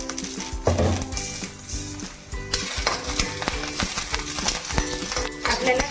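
Small, very hot green chillies roast in a little oil in a pan, crackling and sizzling loudly while a utensil stirs and knocks against the pan in quick, uneven strokes.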